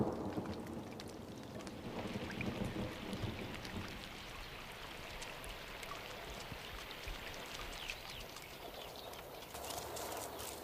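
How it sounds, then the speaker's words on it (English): A late summer storm breaking a drought on the grasslands where wild horses roam, with steady rain hissing and drumming on the ground and low rumbles of thunder rolling underneath, continuous and enveloping with no voices. "A late summer storm breaks Kalamili's season of drought."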